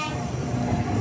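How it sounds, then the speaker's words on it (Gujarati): A Haridwar Express passenger train rolls into a station platform, a loud continuous rumble of wheels and carriages close by for a brief moment. "આપણી ટ્રેન આવી ગઈ છે મિત્રો ફાઇનલી."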